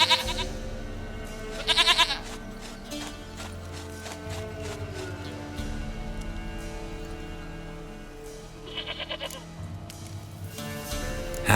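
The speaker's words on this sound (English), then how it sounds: "Goat of mine, dearest, sweetest goat." A goat in The Witcher 3 video game bleats in two short quavering calls a few seconds apart, heard close over a steady bed of game music and ambience.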